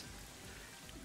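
Rain Dance move in the Pokemon Scarlet and Violet video game, a steady loud hiss of rainfall filling the whole clip with no voices over it.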